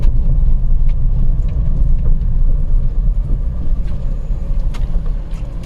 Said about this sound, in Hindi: ये है गाड़ी निकल गई।